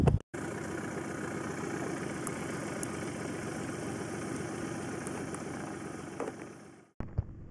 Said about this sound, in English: let's watch a takeoff and see what that looks like from the onboard cameras